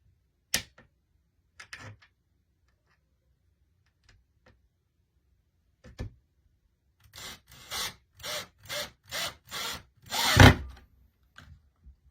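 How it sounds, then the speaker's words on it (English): Screw being driven by hand into a wooden breadboard sconce, a few scattered clicks and then a run of short, regular rasping turns close up. "Now, I do 1 screw at a time, and I don't completely tighten it"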